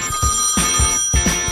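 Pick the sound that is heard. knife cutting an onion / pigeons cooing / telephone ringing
telephone ringing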